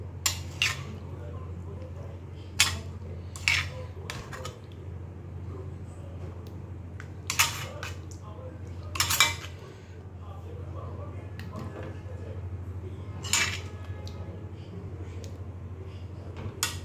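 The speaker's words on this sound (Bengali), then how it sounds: "এই যে ওর বাবুর জন্য তরকারি বেড়ে দিচ্ছি।" Curry being served onto plates in a home kitchen: sporadic sharp clinks of a metal spoon against dishes and pots over a low steady hum, with occasional quiet talk in the background.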